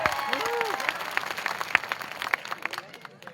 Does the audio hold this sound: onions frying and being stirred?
no